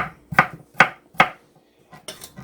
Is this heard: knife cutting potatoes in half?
yes